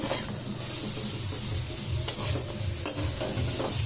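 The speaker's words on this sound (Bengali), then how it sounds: "ভালো করে কষিয়ে নিলাম, কিছু দিলাম দেখতেই পেয়েছো, টমেটো পেঁয়াজ দিয়ে" Onion and tomato masala sautéing in a pan, a continuous close sizzle broken by scraping spatula strokes and occasional clinks as it is stirred, no talking.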